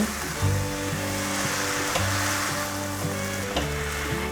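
Tomatoes, rose salt, soy sauce and pepper are stir-fried in a wok, a close, steady sizzle under repeated scraping and stirring strokes, with a persistent low hum and no talking.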